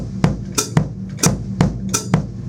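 A baiao foot pattern played on drum kit pedals, bass drum and hi-hat alternating in a steady, syncopated rhythmic loop, close and fairly loud with no talking.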